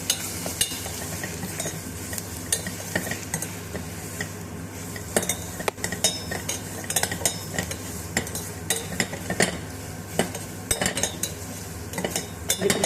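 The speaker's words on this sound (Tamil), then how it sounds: "இப்போ இந்த அரைச்சி வச்சது தேங்காய், இஞ்சி, பூண்டு இதெல்லாம் போட்டுடலாம். போட்டு நல்லா வணக்கி விட்டுக்கோங்க." Ground coconut, ginger and garlic sauté with onions in a pan, giving a steady sizzle under repeated clinks and scrapes of a spoon stirring against the metal.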